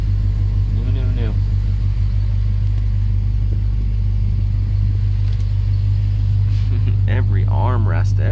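A restored 1966 Pontiac GTO hardtop engine idles with a steady, deep rumble close by, while voices talk briefly over it near the start and end.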